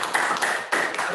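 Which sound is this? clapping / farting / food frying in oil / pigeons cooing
clapping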